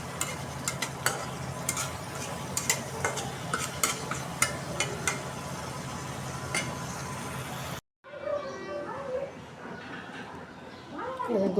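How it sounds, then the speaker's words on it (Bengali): Fish being sautéed with spices in a pan, with repeated scraping stir strokes and clicks over a soft sizzle. After a brief cut it turns quieter, and a voice can be heard. "মাছ দিয়ে আবার ভালোভাবে কষাই নেব। মশলাটা কষানোর পর দিয়ে দিচ্ছি মাছ।"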